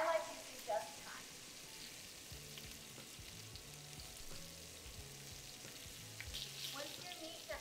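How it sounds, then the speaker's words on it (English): Beef short ribs, meant for red wine braising, sear in a hot pan with a soft, steady sizzle at low volume, opening with a couple of brief clatters. "Once your meat gets a proper sear, we're gonna flip over and sear the other side."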